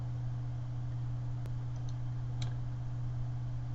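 A single sharp mouse click, then a couple of faint clicks, over a steady electrical hum in a quiet room.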